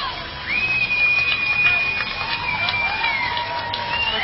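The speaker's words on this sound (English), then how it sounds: "The crowd comes to their feet." Hockey arena crowd at the BCHL Fred Page Cup championship rising to its feet, a steady broad roar of cheering throughout, with a sustained whistle-like tone running over the noise.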